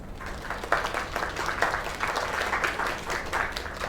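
In the video game Lake, a crowd applauds a singer with dense, steady clapping that keeps up at an even level for about four seconds.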